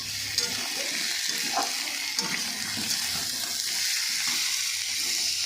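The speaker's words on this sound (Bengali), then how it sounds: "আমার মা নাড়িয়ে দিচ্ছে।" Food fries in a pan while being stirred, a steady moderate sizzle with soft scraping and a watery hiss underneath, heard close with no talking.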